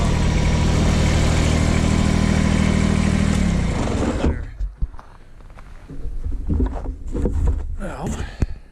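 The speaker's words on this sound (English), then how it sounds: "So let me just turn the tractor on." A tractor engine runs in bitter -27 degree winter cold: a loud, steady diesel drone for about four seconds, then the engine note falls away, leaving quieter knocks and rustling nearby.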